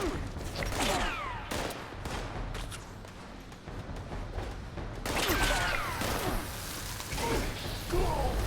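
A flamer weapon fires during combat in the video game Fallout 76, giving a sustained roaring blast that is loud throughout with crackling bursts, and a voice is heard talking at times.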